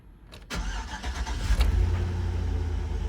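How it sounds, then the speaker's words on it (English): A Mustang GT350 engine cranks briefly and catches, then settles into a steady, low rumbling idle, heard close by. "let's go ahead and start it up"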